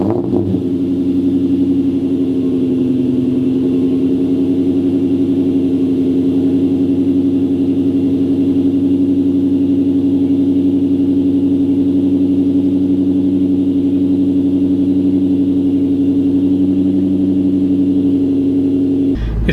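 A Sonic Blue Terminator car idles with Stinger exhaust, giving a steady, close, raspy low drone that holds evenly throughout with no voices.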